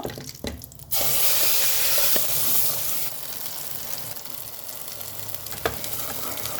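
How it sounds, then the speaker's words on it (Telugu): Ground masala for a dhaba-style potato curry hits a hot pan and sizzles loudly and continuously, with brief clatters and stirring scrapes, no talk. "ఫ్లేమ్ని స్లో చేసుకోవాలమ్మా ఇప్పుడు, ఎందుకంటే ఇది బాగా ఫ్రై కావాలి."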